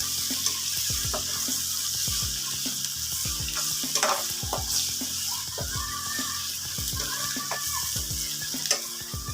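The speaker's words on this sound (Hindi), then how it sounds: "अदरक और लहसुन दोनों बहुत ही अच्छे तरीके से फ्राई हो चुके हैं।" Ginger and garlic frying in a pot as the base for beef yakhni pulao, a steady close sizzle broken by repeated scraping and stirring strokes of a spoon against the pot, with no talking.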